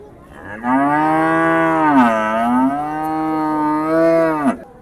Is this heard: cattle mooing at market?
yes